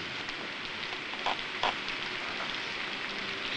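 Steady rain falls during a thunderstorm, a constant soft hiss with a few louder splashing bursts, faint and without voices.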